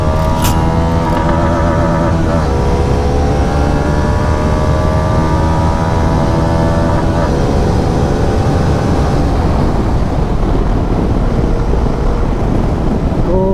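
Loud, steady engine drone of a Bajaj Dominar 400 (349cc) motorcycle accelerating in sport mode, heavily buffeted by wind noise as it climbs in pitch and then settles into a sustained roar.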